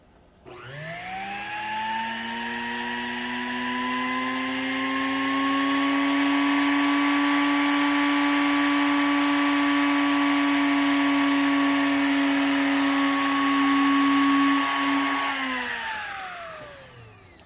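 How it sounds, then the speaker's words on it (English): A Necchi Mira BU sewing machine motor, its housing removed, spins up from a stop to a steady high-pitched whine on high speed, runs for about fourteen seconds, then winds down as it is switched off. "So I'm going to put the motor on high and plug it in again."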